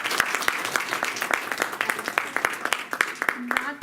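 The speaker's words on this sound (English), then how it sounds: "Can we have another round of applause?" An audience at a children's public speaking contest gives a round of applause, moderate scattered clapping that holds steady, with a few voices underneath.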